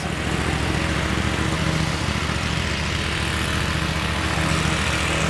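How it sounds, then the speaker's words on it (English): A tractor driving around nearby on a property during hedge pruning work in Windsor, Quebec, giving a steady, continuous engine drone with a low rumbling throb that holds constant throughout. "Got the owner here riding around with his tractor looking at us."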